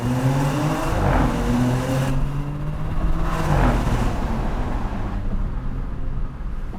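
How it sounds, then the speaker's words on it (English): A 2024 Audi S7 in dynamic mode with manual shifting, its engine revving hard through rising gears with audible turbo noise, loud and close from inside the car, surging then easing off, with no voices. "Hear a lot of turbo noise"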